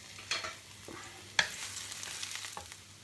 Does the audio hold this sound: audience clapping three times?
no